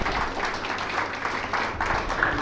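Applause from an audience at a company awards night, a steady dense wash of many hands clapping throughout, fairly loud and sustained without pause.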